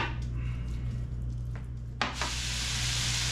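Shaved meat for a quick stir fry sizzles steadily in a hot pan while being stirred around, with a low background hum and a brief utensil scrape partway through.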